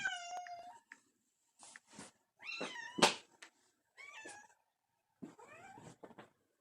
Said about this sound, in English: Cat is now up here with us.